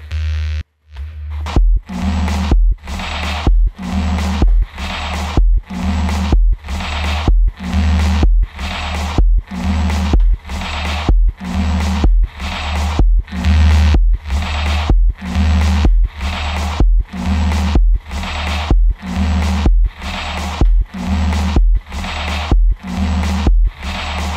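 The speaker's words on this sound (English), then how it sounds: "we're doing some distortion on some reverb, which should sound sick" Heavily distorted synth pulses repeating in a steady rhythm, each hit washing into a gritty, reverberant tail, loud and continuous with no voices.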